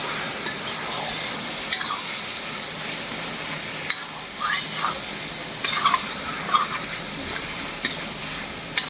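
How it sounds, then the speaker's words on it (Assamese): Goat meat fries in a pan while being stirred, a continuous sizzle broken by scattered scraping and clinking strokes of the spoon, moderately loud and without talk. "এই খাচী মাংসটো পূৰা ফ্ৰাই কৰি আছোঁ এতিয়া"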